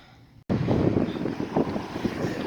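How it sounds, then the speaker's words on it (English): Strong wind buffets a microphone outdoors at a street demonstration in Digby, Nova Scotia, a loud continuous roaring rumble with gusty surges that starts abruptly after a brief quiet moment, with no speech. "I know it's really windy. You might not be able to hear me"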